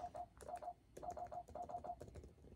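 Function keys being tapped on a homemade Mac tablet's keyboard, a quick run of light clicking presses in small bursts with brief pauses between them, close and moderately quiet, no voices.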